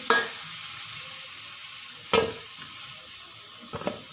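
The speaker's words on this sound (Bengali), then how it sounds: "আলুগুলোকে লাল লাল করে ভেজে নেব" Potato pieces frying in oil in a pan for a bean, potato and lentil-dumpling curry, a soft continuous hiss with three brief scraping stir sounds, close and quiet, no talking.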